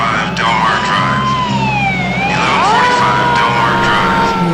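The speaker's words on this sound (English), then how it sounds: "They turn their sirens on just a hair early." Fire engine sirens from a television emergency dispatch scene wail loudly and continuously with rising and falling pitch sweeps, several sirens overlapping close by under a rumbling engine.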